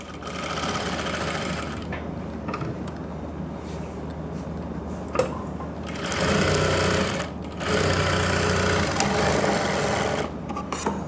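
An electric sewing machine stitches trousers in bursts, a rapid mechanical whirring that runs several seconds at a time, pauses briefly, then resumes, close and fairly loud with no talking.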